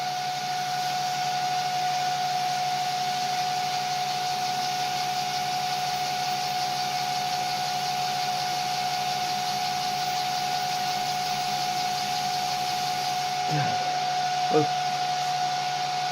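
High-speed electric hub motor with a TI controller spins at full throttle, a steady whine with sustained tonal hum held evenly throughout, a couple of faint clicks near the end.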